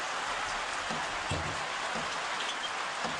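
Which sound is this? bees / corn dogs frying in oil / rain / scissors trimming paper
rain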